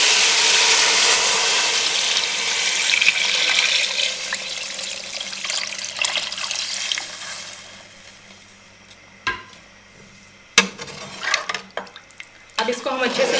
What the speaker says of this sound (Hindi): अब इसमें हम 6 प्याले पानी के डाल देंगे।